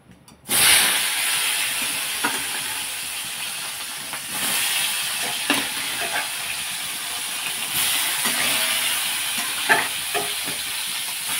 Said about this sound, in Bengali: এদিকে মাছ ভাজাটা চলছে